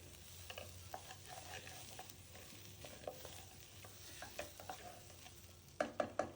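Lentils dry-roast in a pan for payasam. Quiet, repeated scraping and tapping of a spoon stirring them grows into a few louder knocks at the end.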